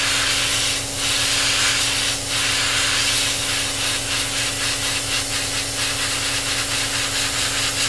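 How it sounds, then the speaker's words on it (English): An airbrush sprays white paint onto a 1/48 scale SU-27UB Flanker model kit at pressure above 20 psi, giving a continuous close hiss with a steady compressor hum underneath and a few brief breaks in the flow. "we can just spray it white"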